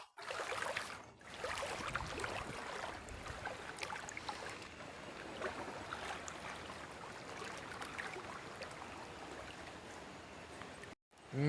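River water flows steadily past a village at dusk, a continuous close trickling and rushing broken by a couple of brief dropouts, with light handling noise and no talk.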